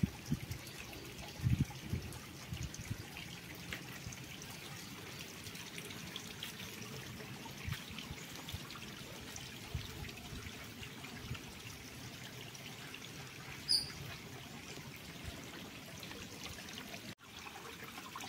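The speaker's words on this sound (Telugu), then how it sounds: "సో ఇక్కడి నుంచి కూడా పైనుంచి వస్తున్నాయి వాటర్" Water trickles down from the hills near Penukonda's Sri Kailasa hill temple, a faint, steady outdoor wash of flowing water with no voices.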